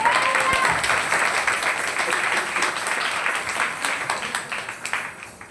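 An audience claps together in a large gathering, starting loud and dense and then thinning into scattered, fading claps near the end.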